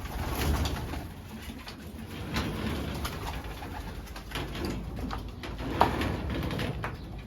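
Racing pigeons in a loft giving soft, low repeated coos, close by over a quiet indoor background, with a brief sharper knock near the end and no speech.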